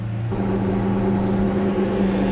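Lamborghini engine idling steadily after a dry sump oil change, a close, even mechanical hum that settles right after a brief shift at the start, running alone without talk.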